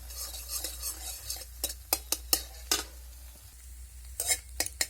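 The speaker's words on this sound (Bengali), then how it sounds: "ডিমটা দিয়ে দিয়েছি এবার আমি ঝুড়ো ঝুড়ো করে এটাকে মেলে চেড়ে ভেজে নেব" Oil sizzles softly in a pan while a utensil scrapes and stirs egg being scrambled in sharp, irregular strokes, close by with no talking.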